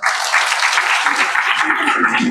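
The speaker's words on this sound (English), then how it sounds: "please join me in welcoming the other guest of honor with a big round of applause" An audience at an Indian Forest Service achievers' felicitation ceremony gives a dense, steady round of applause welcoming a guest of honor, close and loud throughout without pause.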